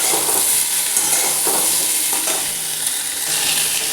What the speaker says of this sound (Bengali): এবারে আলুটাও একটু পটলের সাথে ভেজে নিই